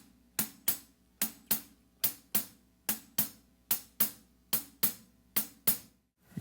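Blues shuffle on a hi-hat, crisp closed cymbal strokes in uneven long-short pairs repeating steadily, close and bright with no voices.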